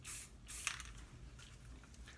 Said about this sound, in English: and spray it the same way, just spurts